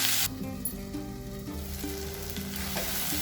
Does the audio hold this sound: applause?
no